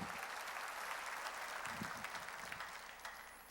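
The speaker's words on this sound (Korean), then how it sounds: "박수로 하나님께 영광 돌리고" Soft applause from a church congregation during a worship service, a faint, even wash of clapping heard from a distance with no voices on top.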